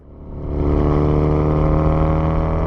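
A 400hp E85-fuelled Subaru STi on air ride accelerates in fourth gear from around 2,500 RPM, its engine drone swelling quickly and then holding a loud, steady throbbing roar close to the microphone.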